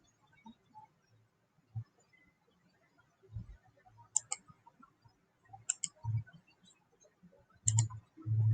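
Several sharp, quiet mouse clicks sound in a quiet room, spaced irregularly, some in quick double clicks, with faint background handling noise.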